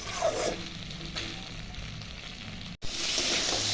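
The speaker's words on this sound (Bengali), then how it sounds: "আমার দেখো আরও 1 মিনিট ভাজা ভাজা করে নিলাম ভালো করে মশলার সাথে।" Cauliflower and paneer fry with spices in a pan for a paneer rosa. A close, even sizzle runs throughout, broken by a brief cut near the end before resuming.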